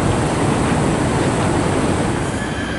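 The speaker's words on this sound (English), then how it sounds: "The KTM Komuter continuing its journey towards Seremban." A KTM Komuter electric train pulls out of Bandar Tasik Selatan station toward Seremban, a loud continuous rumble and rush of wheels on rails with a thin high squeal running through it.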